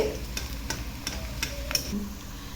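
Onions and curry leaves frying in a pan until brown, a steady low sizzle with several sharp spatula taps and scrapes spaced through the clip, close by with no talking.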